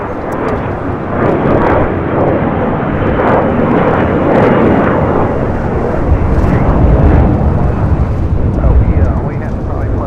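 A jet airplane takes off from runway 25 right at LAX, a loud, steady engine roar building over ten seconds with a broad rumbling wash that swells slightly toward the end.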